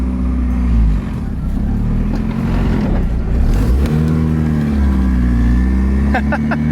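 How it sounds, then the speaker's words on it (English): A twin-turbo Honda Civic engine drones steadily under some talking, its pitch rising and falling as it accelerates, with faint whooshing turbo spool sounds. "You guys hear that turbo spool?"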